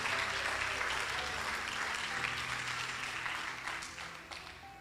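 A church congregation applauding, a dense, sustained wash of clapping from many hands that gradually thins out and fades near the end.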